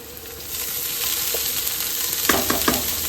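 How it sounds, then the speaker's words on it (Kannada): Leafy greens hit hot oil tempering in an Indian home kitchen and set off a loud, continuous sizzle. A burst of stirring and crackling follows near the end, with no talk. "ಸೊ ಈಗ ಈ ಸೊಪ್ಪು ಒಗ್ಗರಣೆಗೆ ಬೀಳ್ತಾ ಇದೆ."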